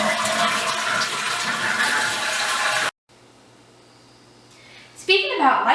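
A public toilet flushes with a loud rushing gush of water for about three seconds, cuts out abruptly, then faint water trickles before another burst of flushing and refilling swells at the end.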